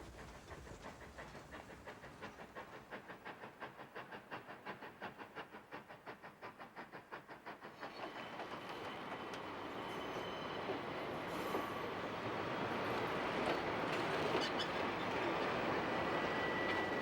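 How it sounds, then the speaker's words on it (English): Steam Engine 73 on a narrow-gauge railroad through Skagway, pulling vintage parlor cars: a rhythmic chuffing and wheel clatter at first, building into a louder, steady rolling roar with hiss as the train draws nearer, heard alone. "Steam Engine 73 pulls the vintage parlor cars through town"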